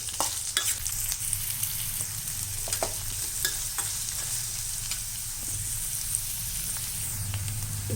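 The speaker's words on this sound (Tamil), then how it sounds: "இப்போ வெங்காயம் நல்லா வதங்கிடுச்சு." Finely chopped onions sautéing in a pan for egg fry masala, with a constant close sizzle broken by occasional sharp ladle taps and stirring scrapes, and no voices.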